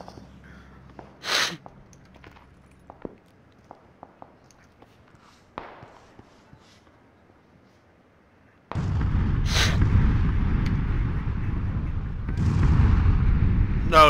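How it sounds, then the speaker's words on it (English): Grenade blasts in PLAYERUNKNOWN'S BATTLEGROUNDS: a sharp burst early on, scattered thuds and clicks, then a loud sustained roaring rumble that swells again near the end, with no talking. "you threw a fucking grenade at my feet"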